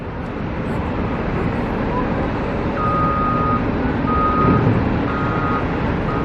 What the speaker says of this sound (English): And then we got the grader down here.